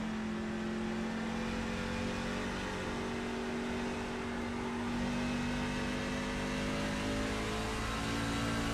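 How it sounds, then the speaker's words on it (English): Chevrolet Silverado trucks doing donuts at Phoenix International Raceway in iRacing, a dense continuous engine roar with sustained revving drone, loud and steady throughout with no talk. "Look at these guys doing donuts up here"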